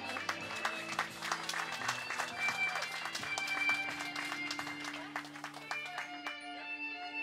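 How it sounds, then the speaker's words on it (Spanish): Guests applaud at a quinceañera celebration, steady crowd clapping running throughout over sustained background music, moderately loud and fading slightly near the end. "Un aplauso, por favor."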